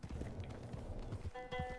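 Hooves of a fast horse gallop in a rapid, rhythmic clip-clop in a Wild West video game, close and fairly loud, with a brief musical tone near the end.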